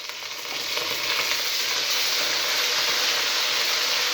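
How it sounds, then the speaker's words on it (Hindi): Oil sizzles and crackles steadily as ginger garlic paste fries in a pan, a loud, close hiss that swells slightly then holds, no talking. "अब यहाँ पे इसके अंदर शामिल करेंगे अदरक लहसुन का पेस्ट।"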